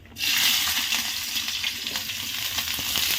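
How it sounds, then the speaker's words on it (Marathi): Onion drops into a hot pan after peanuts were roasted for a peanut-onion thecha and sets off a sudden burst of sizzling. The hiss starts loud and close, then holds steady as the onion fries. "शेंगदाणा आपण भाजले तर आपण काढून घेणार आहे आता कांदा टाकणार आहे"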